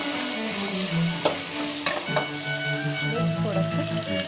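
Turmeric is stirred into sizzling onion and green chili in a pan for a spiced potato-onion rice. Loud continuous frying hiss carries spoon scrapes and clatters, and someone talks underneath.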